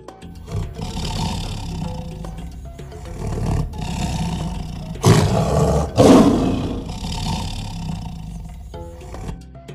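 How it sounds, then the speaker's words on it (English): A tiger roars several times, loud and close, with deep rumbling calls separated by short pauses. "Tiger"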